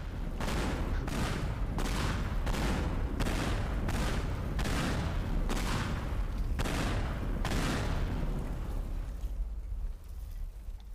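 Rocket launcher explosions in Teardown, a rapid series of heavy booming blasts that follow one another closely, loud and near, then fade into a rumbling tail.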